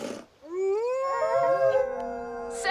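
A cartoon wolf pack howls, one long rising howl joined by several overlapping voices holding sustained tones, loud and near, with a short sharp noise at the start and end.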